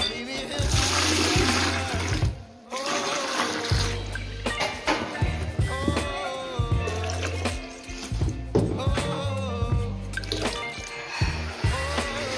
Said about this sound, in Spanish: Ahora voy a preparar mi agua para secarlo.